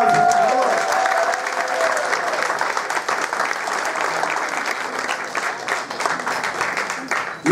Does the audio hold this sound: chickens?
no